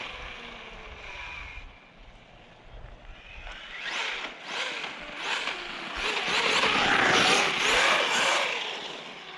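Kraton EXB RC car with a suspected cogging, battery or ESC fault, its electric motor whining up in bursts as the trigger is blipped, loud and close, ending in a rising rush of wheel and motor noise.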